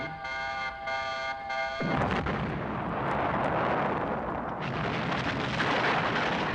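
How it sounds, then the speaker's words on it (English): A building blown up in a reviewed video: a beeping alarm tone cuts into a sudden loud blast, then a long, heavy roar of debris and rumble that holds steady to the end. "He just blew up an actual building."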